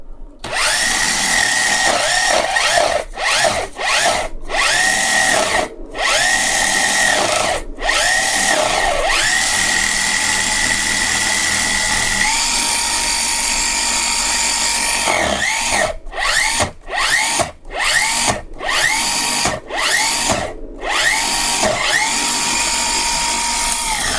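A Dyson V10 spinning brush motor running close up, a loud steady whine that keeps cutting out briefly and spinning back up, the stops clustering near the start and again toward the end.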